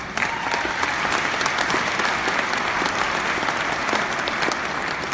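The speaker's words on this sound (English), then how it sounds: "give yourself a big round of applause" Audience applause at a JDRF Hope Gala, a sustained, even wash of many hands clapping that fills the room at steady loudness throughout, with faint crowd sound beneath.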